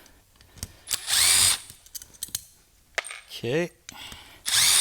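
Powered multi-tool backing Phillips screws out of a Morimoto MLED 2.0 headlight during a teardown, giving several short whirring bursts between pauses, close by, with a brief spoken word.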